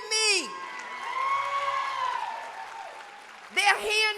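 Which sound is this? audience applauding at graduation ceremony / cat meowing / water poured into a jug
audience applauding at graduation ceremony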